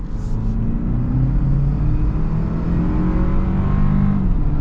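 A used Toyota Land Cruiser accelerates onto an interstate, its engine and road rumble droning steadily and fairly loud from inside the cabin, with a low, even pitch and no talking.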